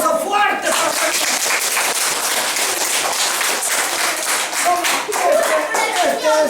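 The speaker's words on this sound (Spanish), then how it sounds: "Daniel, un aplauso fuerte para Daniel." A class of children claps in loud, dense applause during a Santa Claus school visit, a continuous rapid patter of hands lasting several seconds, with children's voices mixed in.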